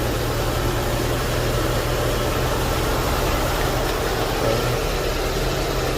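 Infiniti M45 with a VK45DE V8 idling steadily while warming up, a constant low engine hum with broadband noise, no talk.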